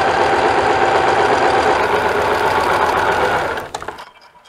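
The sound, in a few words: sewing machine stitching a dress sleeve hem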